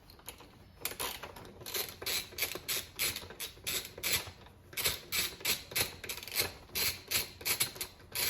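Ratchet wrench with an Allen bit backing out the seat bolts on a Honda CBR650R motorcycle, a fast run of close, crisp clicking strokes repeating steadily in short bursts.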